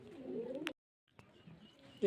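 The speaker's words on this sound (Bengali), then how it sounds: "খুব ভালো ভালো পায়রা আছে" Pigeons coo softly at a pigeon market, a close, low warbling coo that breaks off after a moment, then resumes faintly amid quiet background stirring.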